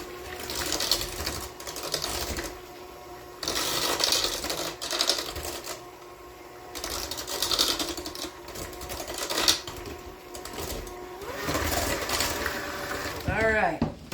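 Electric hand mixer whirring through chocolate chip cookie dough with vanilla in it, running in steady bursts that start and stop, fairly close, with a few brief voice sounds in between.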